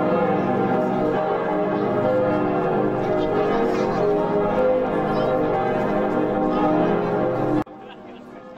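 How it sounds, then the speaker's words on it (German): New bronze church bells of St. Johannes in Salzkotten peal continuously above the rooftops in a dense, loud, overlapping wash of tolling, with a faint murmur of onlookers beneath, before the ringing cuts off abruptly near the end. "Über den Dächern von Salzkotten erklingt eine Glockensymphonie."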